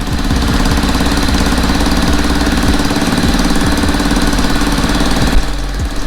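A Yamaha Zuma scooter engine with an exhaust leak idles steadily and loudly, its rough, uneven chugging and ticking continuing for about six seconds with no talk.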